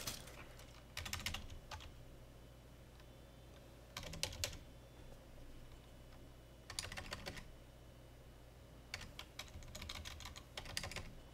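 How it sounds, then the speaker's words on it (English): Short bursts of rapid computer keyboard typing arrive in four separate flurries, clicking quickly over a low steady background hum. "I am not having a good time typing."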